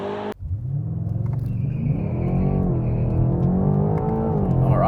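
A BMW M8 Competition launches hard under launch control, its engine bursting to life then roaring loud and close with rising harmonic pitch as it accelerates steadily for several seconds.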